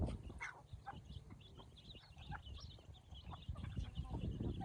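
Jungle fowl clucking and calling repeatedly in a rural outdoor setting, soft scattered clucks over low background rumble and faint bird chirps.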